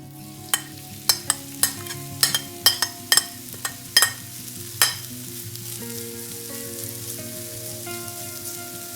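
Sauerkraut sizzles in sunflower oil in a hot skillet, a steady soft frying hiss broken by a dozen sharp pops and clinks of stirring, close and clear.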